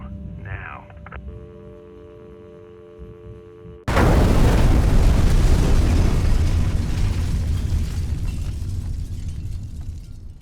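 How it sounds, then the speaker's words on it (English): A sudden, loud explosion tears through biotech corporate offices, cutting off a quiet electronic hum and leaving a long, roaring, rumbling decay. "An explosion has rocked the corporate offices of Senecam Biotech Corporation"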